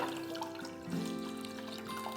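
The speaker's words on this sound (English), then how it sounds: "So just pour that one in." Apple juice pours from a bottle into a small saucepan, a soft continuous trickling and gurgle with a brief splashy swell midway, close but quiet and alone.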